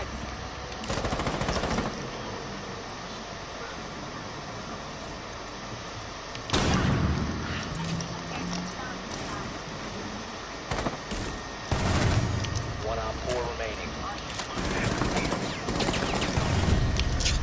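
Gunfire from Rainbow Six Siege, tactical shooter matches with bursts of automatic fire and sharp shots scattered over a busy background, loudest around the middle and later stretches, with occasional voices mixed in.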